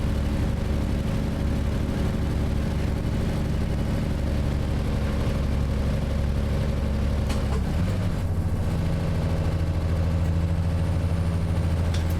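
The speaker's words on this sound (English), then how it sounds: "Yeah, I don't mind this engine." A truck engine in American Truck Simulator, a TMC Ruda 579 hauling a flat deck, drones loudly and continuously, with a shift in pitch near the end as the revs change.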